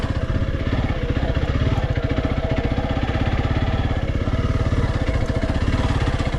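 A Honda CRF300L Rally motorcycle riding narrow single-track trails, its single-cylinder engine chugging steadily and loudly at a low pulsing rhythm throughout, close up with no talking.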